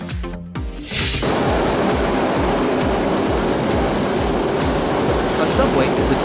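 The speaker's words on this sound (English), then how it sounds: "Subway train." Subway train running underground, a steady loud roar of wheels and motor with a repeating clack-like rhythm across the rails after a brief quieter start, continuing steadily to the end.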